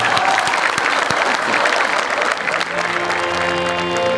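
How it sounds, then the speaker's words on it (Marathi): A studio audience at a Marathi comedy show claps in a dense burst of applause, loud and close, fading somewhat toward the end, with music and voices underneath. "मी लोकांना तापवते टाळ्या"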